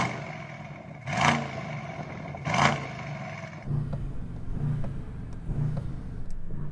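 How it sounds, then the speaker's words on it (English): A Lamborghini Urus SUV engine revs in two sharp blips, then settles into a rumbling idle with pulsing throttle, heard fairly close outdoors. "Okay, Harry, let's hear the Urus."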